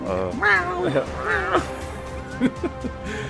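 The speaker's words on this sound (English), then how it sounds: "cat is howling right now" A cat howls in drawn-out, wavering meows and caterwauls, heard close by and mixed with people talking.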